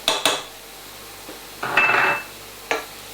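Spices for chicken korma tipped into a pan: a few sharp metallic clinks and a short rattling burst of utensil against pan, with a faint sizzle between.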